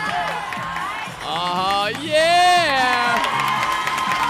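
A crowd at a jump rope national championship erupts in loud cheering, whoops and children's shouts that swell midway and hold at full volume through the end.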